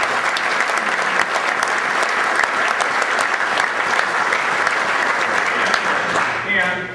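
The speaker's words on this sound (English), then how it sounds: "I think you should clap for Jerry Ray." Steady, dense audience applause at a political speaking event about a state turnpike and infrastructure program, loud and continuous throughout before easing slightly near the end, with a voice starting up over it.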